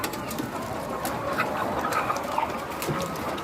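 Hens clucking at a poultry farm in Nagcarlan, Laguna, a steady mass of overlapping clucks and soft calls from many birds close by, with no talking.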